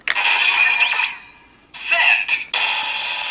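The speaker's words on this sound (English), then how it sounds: "You get a little drum roll" A Beast Driver toy transformation belt gives off bright, buzzing electronic bursts of its drum roll effect, loud and close, coming in three bursts separated by short gaps.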